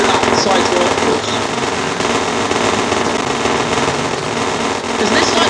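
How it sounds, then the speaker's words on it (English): Continuous rapid gunfire in the Zombie Defence video game, a dense, loud crackling barrage that runs without pause from start to end. "this side seems pretty well covered by all of the gunfire"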